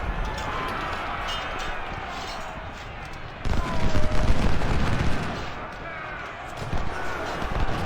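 Massed rifle fire from skirmishers in the Ultimate General: Civil War strategy game, a continuous crackling fusillade that swells sharply midway, dense overlapping shots with no pause.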